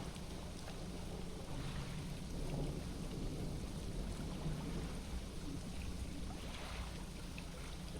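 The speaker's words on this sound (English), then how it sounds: "A lightning strike?" Stormy weather in the fishing video game Dredge: a low, sustained rumble of thunder from a lightning strike blended with steady rain, faint and continuous throughout.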